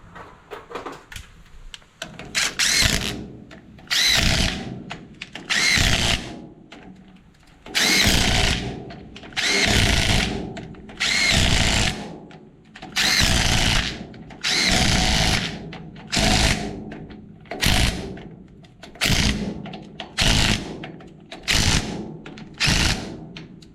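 A power tool driving bolts back into a 3/4 ton GMC truck's rear wheel hub during a bearing replacement, about a dozen loud whirring bursts of one to two seconds each, separated by short pauses, close and without talk.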